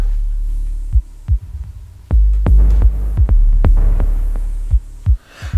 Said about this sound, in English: let's take just the kick